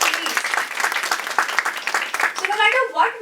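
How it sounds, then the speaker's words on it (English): Audience applause at a career and employability seminar, with bursts of clapping from many people under a voice that talks over it, then clapping thins as speech takes over near the end. "A huge round of applause."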